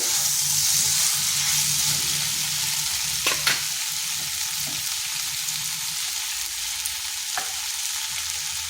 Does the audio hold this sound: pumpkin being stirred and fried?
yes